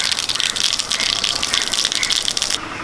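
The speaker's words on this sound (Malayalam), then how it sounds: "കുറച്ച് വെളിച്ചെണ്ണ അഴിച്ചു കൊടുക്കും കുറച്ച് കടുക് ഇട്ട് കൊടുക്കും" Mustard seeds crackling and popping in hot coconut oil for a tempering, a dense, steady sizzle with rapid bright crackles close by, cutting off abruptly near the end.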